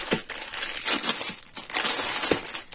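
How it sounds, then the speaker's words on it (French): Plastic packets from a diamond painting kit crinkle and crunch loudly in close handling during an unboxing, with continuous rustling and a few sharper crackles and no talking. "Ça serait bien si un jour vous avez des sachets qui fassent moins de bruit."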